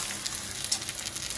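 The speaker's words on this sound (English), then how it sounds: "Oh, a little bit of sizzle." Onions sizzling in a hot pan at home, a soft, steady hiss with faint crackles and pops, close and moderately quiet, no talk.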